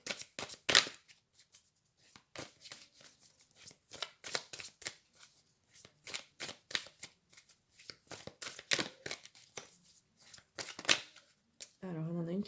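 Tarot cards are shuffled and drawn by hand in a rapid series of crisp riffling flicks and soft slaps, close and fairly quiet, with brief gaps between bursts.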